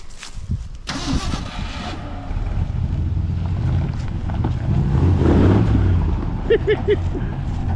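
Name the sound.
1968 Ford F100 Ranger truck driving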